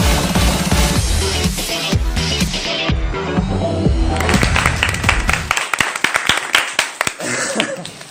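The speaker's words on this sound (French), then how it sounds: "Se calmer avec les applaudissements par contre." Dense applause and clapping fill the room, loud and continuous, thinning into scattered individual claps toward the end.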